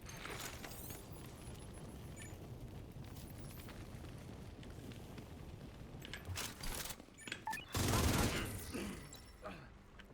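Video game gunfire crackles in a steady run of rapid shots, then a louder burst and a heavier explosive boom near the end, with voices talking over the shooting.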